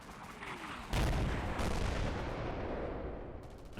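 Artillery shells striking targets in the Combat Mission: Black Sea war game, a sudden loud impact blast followed by a rumbling, crackling explosion that fades over a few seconds.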